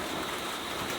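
Heavy rain falling, a dense, steady hiss of drops that fills the whole stretch evenly with no voices.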